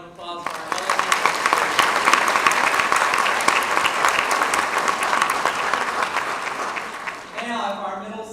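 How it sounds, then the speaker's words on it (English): Loud, dense audience applause for elementary Student of the Year honorees at a school district ceremony, sustained for about seven seconds before a voice begins speaking as it fades. "Let's give another round of applause for our elementary."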